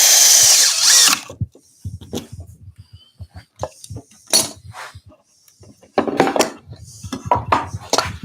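A power drill drives screws into a wooden bird box. A loud whirring burst opens the clip, followed by scattered clicks, knocks and short drill bursts as the parts are handled, with the near sounds alone in a quiet room.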